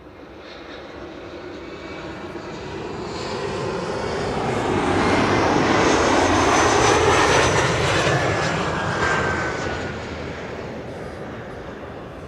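KLM Boeing 787-10 jet arriving at Schiphol from New York, engine roar building as it nears, peaking overhead and then fading away, no voices.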